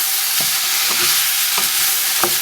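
Beef mince fries and is stirred in a pan, a loud continuous close sizzle broken by a few soft scraping strokes of the spoon.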